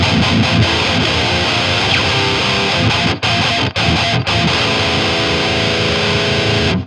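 Heavily distorted electric guitar through the JST Toneforge Disruptor's girthy rhythm preset on the Proto Mech amp, a dense, loud chugging djent riff with two brief gaps where the strings are choked, played alone.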